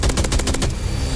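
Rapid burst of video-game gunfire, a loud string of about eight close shots that stops abruptly, leaving quiet background sound with no one talking.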